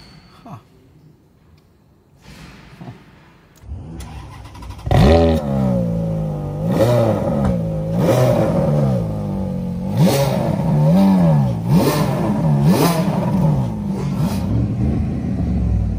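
An Audi RS6 starts up after a quiet moment and then revs hard several times, each sweep rising and falling in a loud, close, throaty engine note with steady rhythmic pulls.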